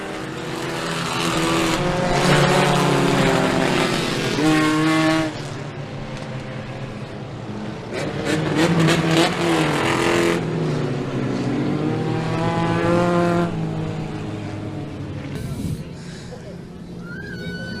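Race cars roar around Merrittville Speedway in repeated surges as they pass by close, engines rising and falling, with an announcer's commentary running over the noise.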